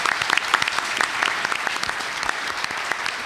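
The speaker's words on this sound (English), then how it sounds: "Round of applause for our media panel and the questions they've asked." An audience applauds the media panel at a Cornwall Chamber of Commerce mayoral debate, a crisp patter of many separate claps, a few sharper ones standing out near the front, sustained for a few seconds without speech.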